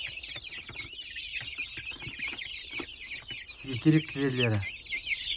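Kuchinsky breed chicks and chickens cheep and cluck close by under steady talk, with a louder burst of calling near the end.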